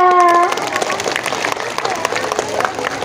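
Schoolchildren clap during a dental health session in a school in Aceh, a dense patter of applause following a brief musical tone, heard nearby with voices mixed in.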